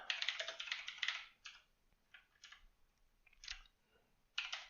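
Fingers type on a computer keyboard in a dense run of rapid clicks, then come scattered bursts and single key taps with pauses, close and clear, with no talk.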